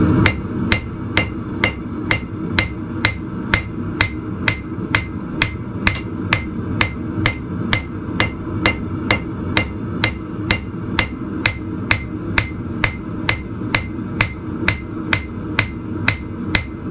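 A railroad spike is hammered on a cold anvil while being forged into a knife, with loud sharp metallic strikes at a steady, even rhythm throughout.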